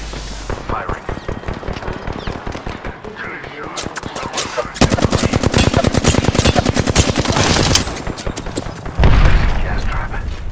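Rapid bursts of automatic weapon fire from an Apex Legends match, loud and close, with sustained rattling volleys and a heavy blast near the end, while a voice talks over the shooting.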